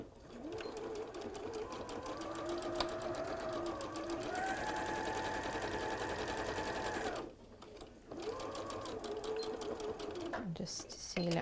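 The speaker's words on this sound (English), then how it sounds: "I'm just going to do a 1/4 inch seam" A domestic sewing machine stitches a quarter-inch seam in a steady whirring run with a rising hum. It pauses briefly and then starts again, close and alone.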